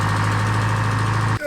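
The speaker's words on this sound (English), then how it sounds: "These tractors, you can hear them for about a mile away when we're running them" Farm tractor engine running steadily at close range, a loud rough droning hum with a strong low throb that cuts off abruptly near the end.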